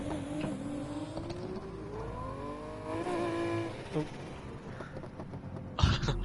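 Engine revving in the video game Need for Speed Heat at the start of a sprint race, a rising and falling motor note with gear shifts, fairly loud, with a sharp burst near the end.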